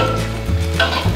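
Spices with bay leaves, lemongrass, ginger and galangal sizzling in a pan as they are stirred, a loud close crackle with a short scraping stir midway, no talk.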